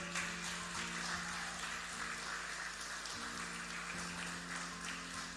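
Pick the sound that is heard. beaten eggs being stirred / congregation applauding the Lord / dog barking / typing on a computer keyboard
congregation applauding the Lord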